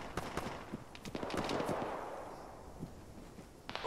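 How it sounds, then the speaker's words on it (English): Gunfire aimed at the player in ShackTac Arma, a burst of sharp, rapid cracks and thuds clustered in a few seconds, fairly faint and mixed with some distant rumble. "Stop shooting at me!"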